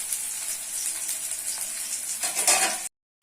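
Chopped onion, dried chilli and crushed garlic hiss and sizzle steadily in hot oil in a pan for red lentil dal, the frying noise swelling louder near the end before cutting off abruptly.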